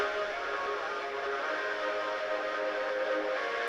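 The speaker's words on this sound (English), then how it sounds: "So now it kind of sounds like this washed out weird walkie-talkie." Footage processed with a walkie-talkie effect gives a steady, washed-out, band-limited hiss and murky midrange wash that stays at an even, fairly loud level throughout.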